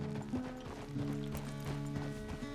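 Horse hooves clip-clop at a steady walking pace in Red Dead Redemption 2, the regular footfalls moderately close over a continuous musical and ambient game background.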